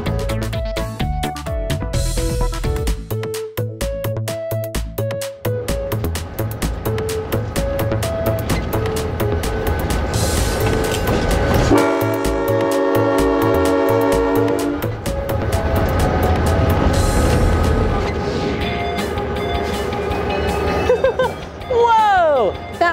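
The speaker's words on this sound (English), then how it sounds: "That was so much fun operating a locomotive!" A locomotive rumbles along with steady track clatter, and a horn sounds in long sustained blasts partway through, while people talk excitedly over the running train.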